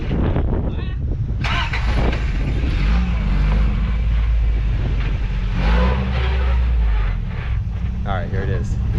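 A 1986 Toyota pickup with a three-link suspension and dual transfer cases crawls off-road, its engine holding a steady low drone with swells of revving, loud and close, while people talk over it.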